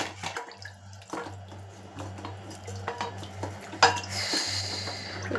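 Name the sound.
washing cooking pans with water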